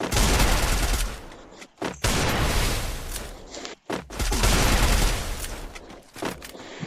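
Gunfire in the mobile shooter Free Fire during a one-on-one match, long loud bursts of rapid shots broken by short gaps, close and dominant with no talk.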